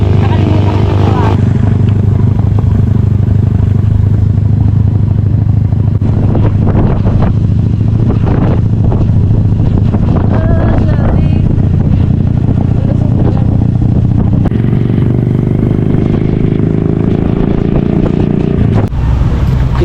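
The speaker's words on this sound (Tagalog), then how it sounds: "Sumakay ulit kami guys sa motor." A rented motorcycle carries riders through El Nido, Palawan, its engine a steady close drone mixed with heavy wind buffeting throughout, while people talk over the noise.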